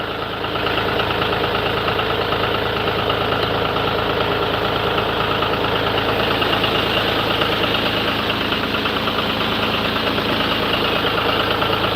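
An old John Deere tractor engine idles steadily and close by, a dense, even rumble with a continuous rapid knocking pulse and no voices over it.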